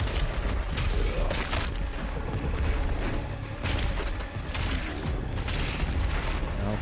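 Several enemies firing guns at the player in Doom Eternal on Ultra Nightmare, a dense, continuous barrage of shots and blasts with loud game combat noise throughout.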